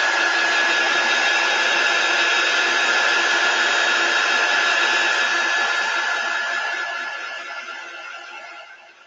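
A handheld drying tool blows air over chalk paste on a wooden tray, a loud steady whooshing whine held close for several seconds before winding down and fading at the end.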